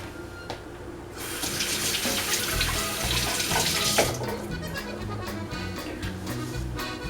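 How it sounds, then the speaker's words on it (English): Hands wash under a kitchen tap, with a steady rush of running water that starts after a second and continues loud and close, splashing and shifting as hands move. "I'm going to wash my hands real quick"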